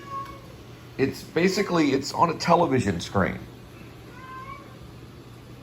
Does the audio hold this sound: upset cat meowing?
yes